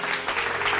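A church congregation claps loudly and steadily through a short burst of dense, continuous applause during a sermon, filling the room with no voice on top.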